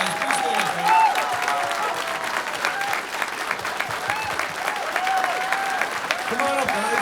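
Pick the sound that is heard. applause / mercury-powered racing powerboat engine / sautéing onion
applause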